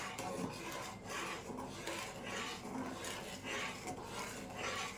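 Rhythmic rasping and scraping of a utensil stirring milk and sugar in a pan for sandesh, with steady strokes about twice a second, close and fairly loud, with no voices.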